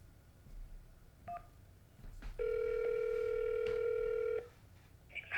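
A telephone keypad is pressed to place a restaurant order: a brief key tone, then a long steady two-note tone lasting about two seconds, clear and close over faint background noise.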